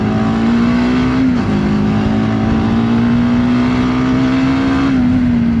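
A TVS Apache RTX 300 motorcycle engine holds a steady high rev, dips briefly, then pulls back up, loud and close throughout, with no talking.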